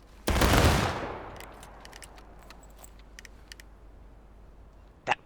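A musket volley fired by a drill line in the video game War of Rights: one sharp, loud massed blast that rolls away into a fading echo, followed by scattered faint clicks and a single distant shot.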